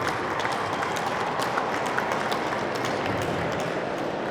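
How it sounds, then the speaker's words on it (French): An audience at Japan Expo applauding the authors of Shin Zero, a dense, continuous wash of clapping at steady volume throughout, with no voice over it. "On applaudit très fort les auteurs de Shin Zero."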